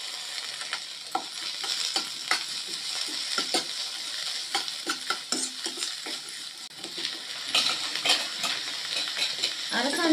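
Onion, dried red chillies and curry leaves stir-fry in a hot pan with a steady close sizzle. A spoon scrapes and clinks against the metal in irregular strokes, and no voices are heard.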